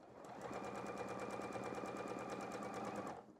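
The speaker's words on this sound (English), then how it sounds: "it's also really, really great and fun to quilt on your home sewing machine with them as well" A home sewing machine running steadily while quilting fabric guided with a template, a fast even needle chatter held for about three seconds, close and alone.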